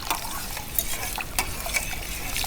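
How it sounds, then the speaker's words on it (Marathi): Buttermilk is stirred into ragi soup in a pot, giving a close, steady wet swishing with a few light utensil clinks over about two seconds. "तर आपण ताक घालूया."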